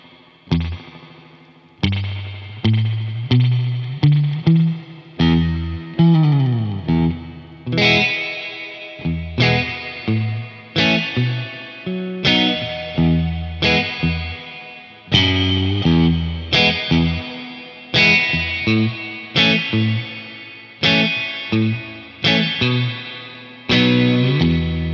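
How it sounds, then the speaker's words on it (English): Electric guitar chords played through an MXR reverb pedal on its spring setting, with a drippy, splashy spring tail ringing after each strum across a steady run of chords, with no talk. "next we have the spring reverb"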